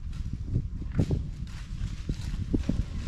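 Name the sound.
horse walking on a horse farm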